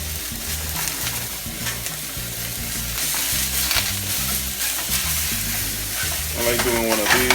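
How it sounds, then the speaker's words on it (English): Ground meat for lettuce tacos sizzles steadily in a hot pan, with a dense crackling fry and occasional stirring scrapes. A low musical bed plays underneath and there is no talk. "Wait for that sizzling noise that this thing is gonna make."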